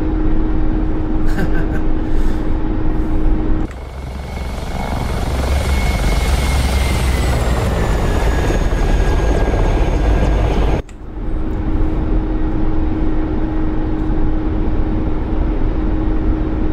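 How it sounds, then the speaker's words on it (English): A Mi-24P Hind attack helicopter in the DCS flight simulator gives a loud, continuous turbine and rotor drone in flight, with abrupt shifts in tone as the sound cuts between views; no one talks. "I'm still learning this helicopter"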